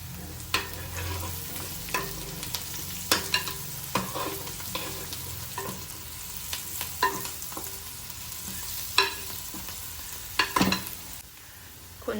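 Dried prawns stirred and fried with turmeric in a pan for a gongura prawn curry: a steady, close sizzle with repeated scraping stirs and spatula knocks throughout, no talking.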